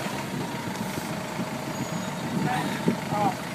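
A convoy truck idling at Dover port, a low, steady engine rumble heard throughout under background noise, with a few brief beeps and clanks near the end and people talking in Arabic nearby.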